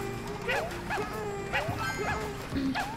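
A dog in Yoshi's Woolly World yips and barks in a quick series of about five short, bright calls over game music and background talk.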